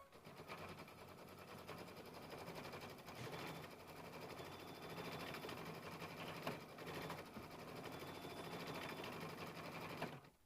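A sewing machine stitches appliqué fabric for a small butterfly quilt block, its rapid, even needle chatter running close and continuous with faint variations in speed.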